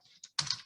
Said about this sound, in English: I should be able to just about type up another one